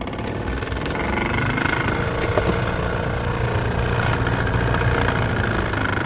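A Nissan X-Trail runs with its air conditioning making a strange noise, a steady, loud mechanical drone with a rough, rattling texture that continues unchanged without talk.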